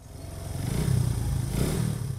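An NSF 100 racing motorcycle at a city street race in Rotterdam, its engine droning and rising steadily, loud and close, with no one speaking.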